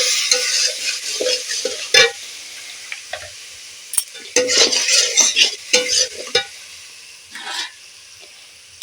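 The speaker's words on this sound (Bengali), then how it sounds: "কাঁচা গন্ধটা যতক্ষণ না কাটছে ততক্ষণ কিন্তু আমি নাড়তেই থাকবো" A spice paste fries in a pan for a snakehead fish kalia, with repeated scraping stirring strokes in irregular bursts over a soft background sizzle that swells and fades with each push of the spatula.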